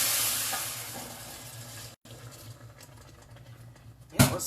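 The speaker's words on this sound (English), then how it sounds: "Apparently it was hot. It's already boiling." A steady hissing bubble of milk and chicken broth boiling in a pan, broad and even, with a brief dropout and a clatter near the end.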